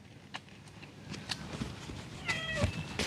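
A cat in a rural mountain home gives a short, soft meow near the end, over faint shuffling and household background noise.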